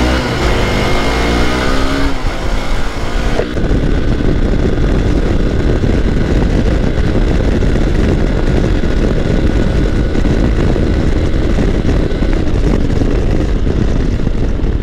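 An adventure motorcycle ridden hard, its engine roaring loud and steady up close, with a brief rising rev and gear change near the start and then constant wind and engine drone.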